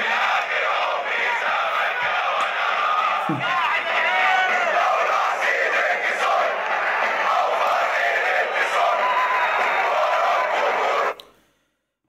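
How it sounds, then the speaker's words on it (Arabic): Zamalek football supporters chant together in the stadium stands, a dense, loud, continuous roar of many voices that carries on steadily before cutting off abruptly near the end. "جمهور الزمالك اللي قاعد في المدرج ومستحمل كل اللي حصل في نادي الزمالك على مدار الفترة اللي فاتت بيعبر عن حزنه في المدرجات"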